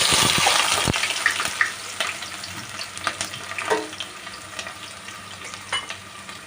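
Onions and chillies hit hot oil with a loud burst of sizzling that gradually settles into a continuous crackle, broken by scattered scraping stirs in the pan.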